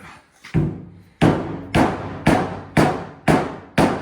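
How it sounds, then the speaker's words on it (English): A hammer strikes the dented tailgate of a Nissan Hardbody mini truck, seven loud, close metallic blows in a steady rhythm about half a second apart, each ringing briefly. "I got a hammer right there."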